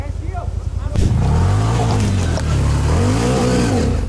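A quad bike (ATV) engine revs hard while pushing through deep snow, a loud, sustained roar that climbs in pitch after a brief start, with people talking and shouting over it.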